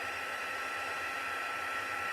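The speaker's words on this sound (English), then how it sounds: "let me see if I can just dry them off a second with my heat gun" A heat gun blows hot air over damp card wings in a craft room, a steady, loud, even hiss of airflow with a low motor hum underneath, running continuously and unbroken.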